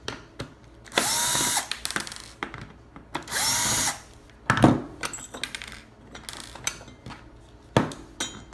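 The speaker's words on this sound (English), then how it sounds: "We then remove this plate with 3 screws." A power driver removes the three screws of an OJMAR coin lock plate, with two loud whirring bursts followed by metallic clinks and rattles of the screws and plate, close by.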